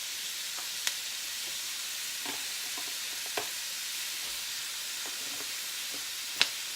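Vegetables including zucchini cooking in a pan for a vegan mock seafood boil, a quiet continuous sizzle and hiss with a few faint clicks and taps, close but low in level.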